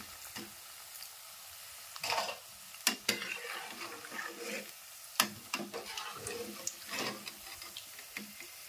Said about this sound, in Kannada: ಈಗ ನೋಡ್ರಿ ಬಜ್ಜಿ ಅಂತರ ಮಸ್ತ್ನಾಗ ಫ್ರೈ ಆಗ್ಯಾವ್ರಿ.